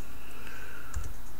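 A couple of soft key clicks on a computer keyboard while a math function is typed into GeoGebra, close by over a steady low room hum.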